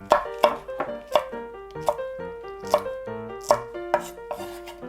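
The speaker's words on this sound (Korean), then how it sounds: "그래서 이것도 똑같은 사이즈로 같이 썰어 주세요" Knife chopping green chili peppers into even pieces on a cutting board: about a dozen sharp, close taps in a steady rhythm, ringing slightly, with no voices.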